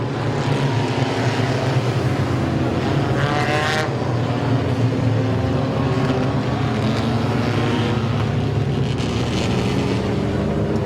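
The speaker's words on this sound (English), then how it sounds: "And the 69 of Medley hits the bumper" Race cars roar continuously at Midvale Speedway, a loud, dense engine drone that swells and fades slightly as cars pass, with no talking.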